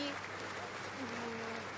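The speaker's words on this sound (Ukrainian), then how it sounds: "Люди під час церемонії дуже багато аплодували." Audience applause at the Charlemagne Prize ceremony honouring Zelensky, a steady wash of many hands clapping that fills the whole stretch, with a voice talking over it.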